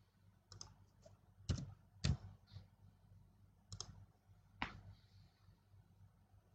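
Numbers typed on a computer keyboard while entering input for a C++ sequential search program: about six sparse, sharp keystroke clicks spaced irregularly over a quiet background, with no talking.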